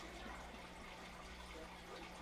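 Continuous rushing water from a water wheel turning in the Icarus video game, a dense, steady broadband wash with no breaks, loud and close, with no voices.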